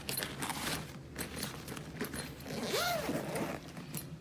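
A zipper on the carry bag of an 18-inch Neewer ring light is pulled open in a couple of close, raspy strokes, with light rustling of the bag around it.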